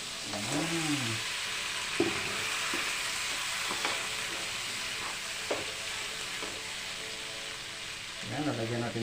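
Shrimp sizzle and fry with chopped onion in a pan for butter garlic shrimp, a steady loud hiss with stirring scrapes, while a voice talks over it at the start and end.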